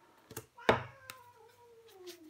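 A house cat meows, one loud drawn-out call with a falling tone, preceded and followed by a couple of soft thumps or taps in a quiet indoor room.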